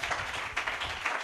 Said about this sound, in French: Donnez-moi l'acclamation.